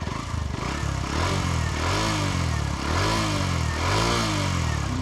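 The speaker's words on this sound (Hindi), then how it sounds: "एग्जॉस्ट अगर आपको सुनना है आवाज़ कैसा करता है तो भी सुना देता हूँ मैं" A Hero Glamour X 125 motorcycle engine idles with a deep, throbbing exhaust note, rising in a few repeated revs, close and fairly loud with no talking.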